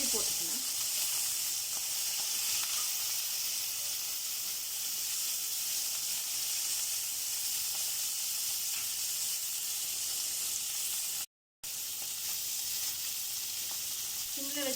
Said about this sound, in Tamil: ஃபிஷ் நல்லா ஃப்ரை ஆகுது.